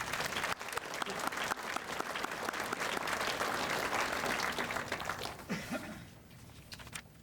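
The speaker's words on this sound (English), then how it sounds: "Please give a round of applause." Audience at a sports hall of fame induction ceremony applauds, a full, sustained roar of many clapping hands that tapers off near the end as a voice begins.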